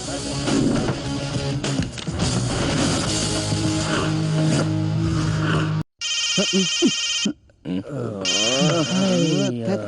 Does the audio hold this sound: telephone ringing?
yes